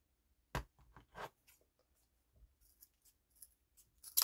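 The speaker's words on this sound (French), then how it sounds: "Je prends la même mesure et je coupe." Scissors snip through small sticks for a homemade nutcracker craft: a few sharp, close cuts with quiet handling and crunching noises between them, all at low volume.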